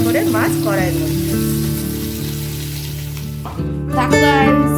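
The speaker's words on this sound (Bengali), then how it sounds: "এবার একটা একটা করে মাছ মা কড়াইয়ের মধ্যে ছাড়ছে" Bata fish frying in a home kitchen wok, a steady hissing sizzle of hot oil running throughout beneath background music and brief talking.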